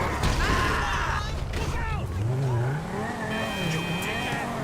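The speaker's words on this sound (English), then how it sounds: "Listen to this car downshift." A car in GTA Online downshifting while rolling down a hill, engine revs rising and falling in a continuous, loud drone with shifting pitch, with a voice talking over it throughout.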